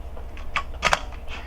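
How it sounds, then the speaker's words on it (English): The film advance lever on a Minolta XK camera is wound, giving a few quick dry mechanical clicks and ratchet ticks, close and faint. "now you advance the film"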